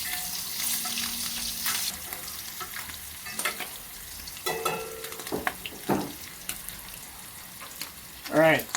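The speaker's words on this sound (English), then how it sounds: "now that we got them seared and they're cooking on the other side" Scallops searing in a hot pan, a soft steady sizzle with stirring and utensil clinks, close but fairly quiet, with brief background voices and a sharp clatter near the end.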